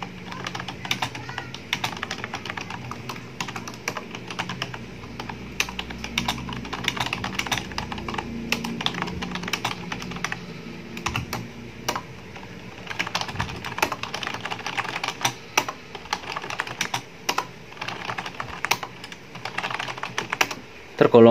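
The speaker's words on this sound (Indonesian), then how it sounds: "Kita ketik." Typing on a Logitech computer keyboard: a continuous quick patter of close keystrokes with brief pauses, and a voice speaking over part of it.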